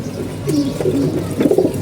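Pigeons coo in a loft, with soft, rolling low coos repeating close by over a faint background and no speech.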